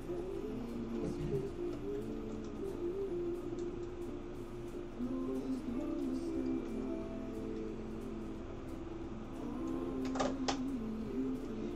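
A home embroidery machine stitches a black outline, humming with a steady mechanical whir and rhythmic needle ticking, quiet and even, with a couple of brief higher whines near the end.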